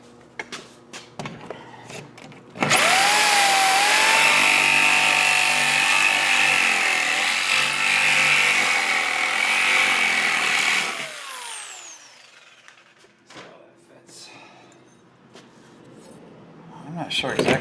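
A power tool trims a propane fitting for a dual fuel generator hookup, starting abruptly with a loud, continuous high-pitched whine and grinding for about eight seconds before spinning down, with scattered handling clunks before and after.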